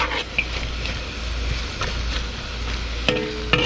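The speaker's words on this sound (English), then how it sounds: "We stir the fry. Remember, because the egg is half cooked, so we need to stir and then make it fully cooked." Half-cooked eggs sizzle and get stirred in a hot pan for a Chinese stir-fry, a steady close frying hiss with occasional scrapes and clicks of the utensil.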